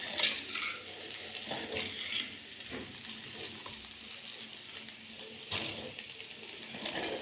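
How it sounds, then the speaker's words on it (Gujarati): A spoon stirs a vegetable muthiya mixture in a pan while the sugar dissolves, giving soft, faint scraping and light sizzling in short irregular strokes, with no talk. "ખાંડ ઓગળી ન જાય ત્યાં સુધી એને થોડીક વાર ચલાવશું."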